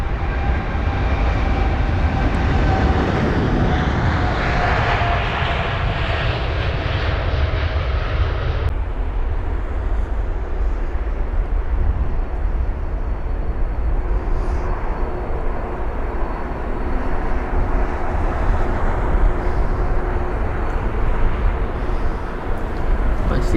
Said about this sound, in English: So the United 767 that I was on about, here it is.